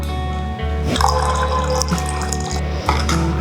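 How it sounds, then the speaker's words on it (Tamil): Water pouring and splashing steadily into a bowl of millet porridge with curd, with a low hum underneath and a few small clinks. "கொஞ்சம் தண்ணி ஆட் பண்ணிக்கலாம்."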